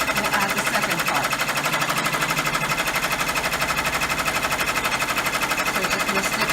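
An embroidery sewing machine stitches a pocket tissue holder in a hoop, a fast, steady mechanical chatter running continuously and close.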